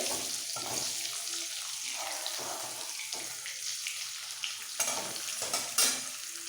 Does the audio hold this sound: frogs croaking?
no